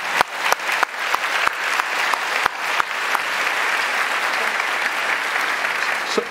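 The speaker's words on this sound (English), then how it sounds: "Can we give Manus a round of applause" A crowd at a Christchurch literary event applauds Manus, opening with a few sharp, separate claps near the microphone that swell into a sustained, dense round of clapping that fills the hall to the end.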